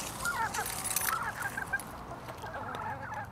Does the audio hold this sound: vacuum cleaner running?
no